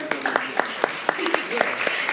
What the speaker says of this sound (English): Could we have a round of applause for them, please?